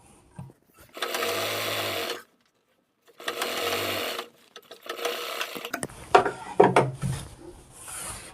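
A sewing machine stitches a men's kurta in bursts, each run a steady whirring hum lasting a second or so, broken by pauses and followed by handling and rustling of the cloth.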